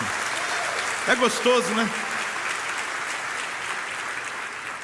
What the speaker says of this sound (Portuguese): Dá uma salva de palmas, vamos lá, vai.